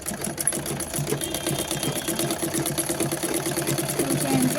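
Sewing machine stitching cloth with a steady, rapid mechanical clatter close by, running continuously throughout, with a voice faintly beneath it.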